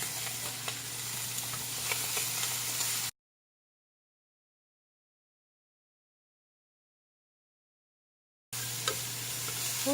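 Bacon, carrot and spinach stir-fry in a pan with a steady, soft sizzle and occasional scraping stirs. The sound cuts to complete silence for several seconds, then the sizzling resumes.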